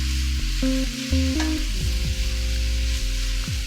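Vegetables and meat for Asian lettuce wraps stir-frying on high heat, a steady loud sizzle with occasional scraping of a utensil in the pan.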